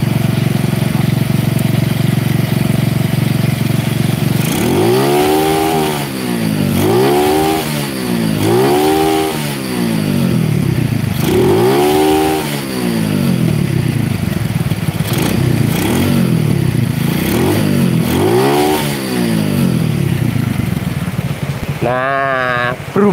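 Honda Win motorcycle engine revving repeatedly in short blips over a steady idle, loud and close, each rev rising and falling in quick succession.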